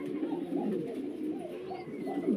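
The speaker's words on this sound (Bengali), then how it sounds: "নিজের ডিম বাচ্চা নিজে করা কবুতর" A pair of Black Shouldered (Muundi) pigeons coos in a steady, low, throaty drone throughout, close and continuous with no talk.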